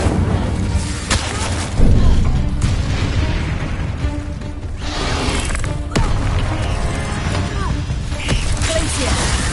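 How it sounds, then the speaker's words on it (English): A fire spell cast in a video game bursts out with booming, whooshing blasts, loud and repeated over a dense backdrop of game effects. "Incendio!"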